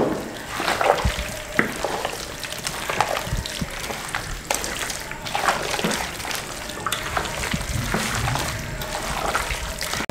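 Marinated chicken being mixed by hand with white sesame seeds and splashes of water, giving close, wet squelching and sloshing that repeats in irregular bursts throughout.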